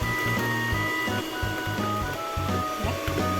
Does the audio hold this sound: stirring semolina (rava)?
no